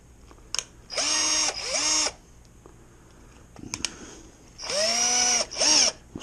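A power drill stirring bentonite into pear and peach wine, with two pairs of short, high whirring bursts separated by a quiet pause, close and fairly loud.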